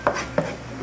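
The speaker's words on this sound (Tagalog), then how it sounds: "hiwain ko na ng bongga" Knife cutting through raw chicken pieces for curry, two quick close chopping strikes against a board less than a second apart, with a faint background hum.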